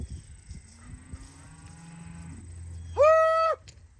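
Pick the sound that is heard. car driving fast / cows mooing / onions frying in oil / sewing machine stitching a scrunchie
cows mooing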